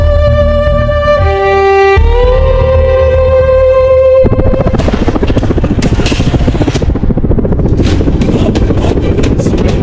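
An air ambulance helicopter arrives: a loud, steady rotor roar with rhythmic chopping swells in after a few seconds of sustained tonal music and then fills the rest of the clip.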